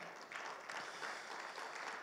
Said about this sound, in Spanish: fuerte aplauso al Señor, por favor.